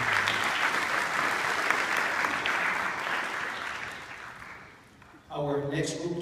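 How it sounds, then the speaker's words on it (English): Audience gives a round of applause for district choral chairs at a middle school choral performance, steady clapping that fades out over several seconds before a voice begins speaking. "Let's give them a round of applause as well."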